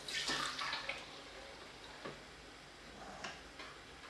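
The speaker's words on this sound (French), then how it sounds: "Et on passe l'appareil dans un passoire" Crème caramel custard mixture poured through a sieve in a home kitchen gives a light liquid trickle with a few soft clinks of utensil on metal, close and quiet, with no talking.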